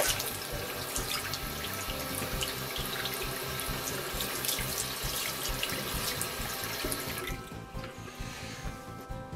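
Steady stream of water runs from a tap onto a waterproof bicycle phone case for an iPhone 5, a continuous close splashing that cuts off near the end, leaving a quieter trickle.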